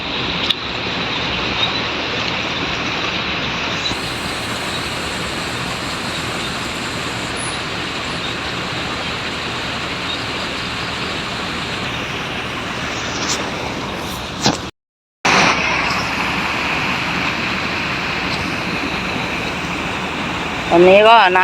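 Loud, continuous rush of floodwater flowing steadily over a road, broken by a brief dropout partway through, with no talking.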